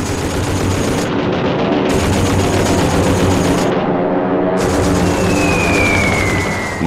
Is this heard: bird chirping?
no